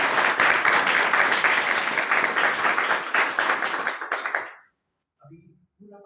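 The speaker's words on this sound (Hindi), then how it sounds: "ओके, एक बार सभी के लिए जोरदार तालियां दो।" A room of seminar attendees at PSK Technologies claps loudly and densely for several seconds. The applause then tapers off abruptly into silence, followed by a brief bit of speech.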